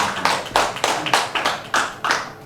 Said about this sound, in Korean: 큰 박수로 맞이해주시기 고맙습니다